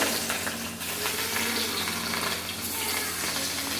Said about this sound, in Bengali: তেল গরম হয়ে গেছে মাছ ভেজে নেব